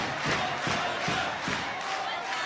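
Pro wrestling arena crowd at a Stardom women's show chanting and cheering in rhythmic surges, a dense roar with regular pulsing beats, steady and moderately loud.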